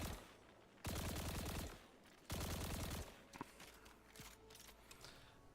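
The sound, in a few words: hip-fire gunshots at a teammate in the video game Destiny 2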